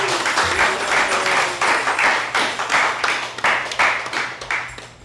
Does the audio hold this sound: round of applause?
yes